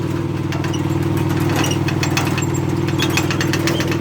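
A Kubota SR-J3 rice combine harvester engine idles close by, a low, even rumble with a faint rhythmic knock running through it, with no voices.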